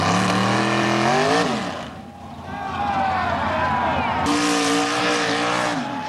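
Chevrolet truck at a 1995 mud bog race, loud engine revving with rising pitch, a brief dip, then another strong surge, heard from fairly close.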